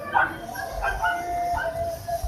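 A caged dog barks and whines in a few short yelps and a drawn-out howl-like cry over low background rumble, moderately close.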